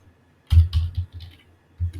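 Typing code on a computer keyboard, a short burst of close, clicky keystrokes in two quick clusters with a brief pause between, no talking.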